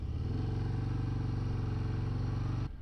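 A 2024 Harley-Davidson Breakout with the 117 V-twin engine rumbles loudly and close while riding, a deep steady throbbing drone that cuts off sharply near the end.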